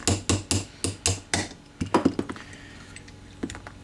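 A hammer drives a drift punch against the trigger pin of an Ithaca M49R lever-action shotgun. Sharp metallic taps come in a quick, regular run, then a few irregular knocks, close and clear.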